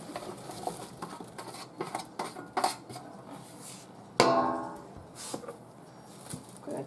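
Diced peeled potatoes drop into a crockpot for beef stew with a single loud clattering thud midway, amid lighter kitchen clinks and knocks before and after.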